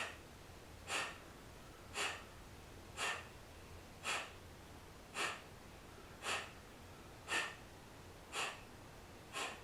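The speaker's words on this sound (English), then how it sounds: "And exhale through your nose." Nine soft nasal exhales come in a steady rhythm about once a second during chair yoga breathing practice, close and faint with no talking.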